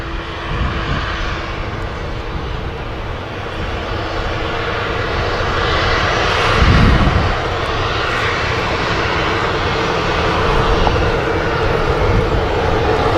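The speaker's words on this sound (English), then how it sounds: "Also got the Etihad Dreamliner on the taxi in as well over by the Runway Visitor Park." An Etihad Boeing 787 Dreamliner taxies past the runway visitor park at Manchester Airport, its jet engines making a steady, loud broadband roar that swells briefly midway and continues without talk.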